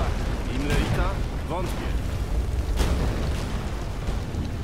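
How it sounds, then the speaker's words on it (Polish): Explosions go off during a battle in the video game The Witcher 3: Wild Hunt, with repeated booms and bursts rumbling through a continuous din while people talk over the action. "wszędzie wybuch, eksplozje"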